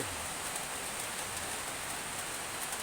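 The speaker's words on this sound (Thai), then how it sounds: "บรรยากาศฝนตกช่วงบ่าย" Steady afternoon rain falls in a continuous soft hiss with faint patter, quiet and even throughout with no voices.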